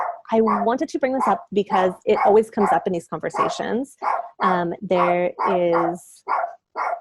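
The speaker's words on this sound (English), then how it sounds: "sorry about my dog." A dog barks at someone outside a gate, its sharp barks and yips mixed in with someone talking steadily and close up over them.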